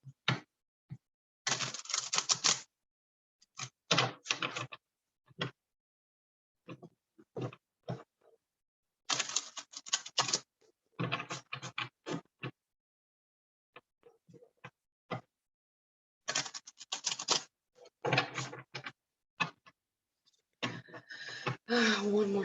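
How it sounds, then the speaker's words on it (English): Tarot cards are shuffled in repeated quick bursts of crisp riffling and flicking, close and dry, separated by short silences across the stretch. "One more shuffle."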